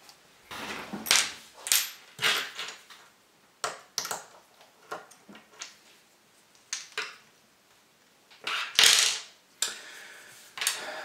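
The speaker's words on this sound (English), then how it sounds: "I can remove just the guide section with an Allen key." Metal clicks, ratcheting and scraping from an Allen key turning bolts on a mountain bike chain guide, a close, irregular series of sharp mechanical bursts separated by short pauses.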